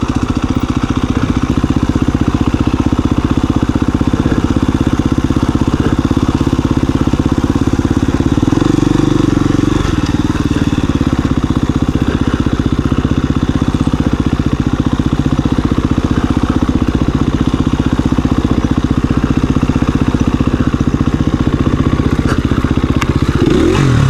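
A KTM dirt bike engine drones steadily during riding practice, with a brief rougher surge midway as the rear brake locks up, loud and continuous with no talk.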